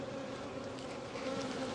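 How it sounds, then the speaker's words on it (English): Worker bees buzz around a beekeeper at an open hive during spring splits, a close, steady droning hum with several insects overlapping and no talk. "So all the bees that are buzzing around me are typically worker bees."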